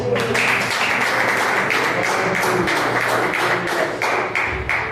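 A church congregation claps in rhythm during worship, dense repeated hand claps filling the room at moderate loudness with no voices on top.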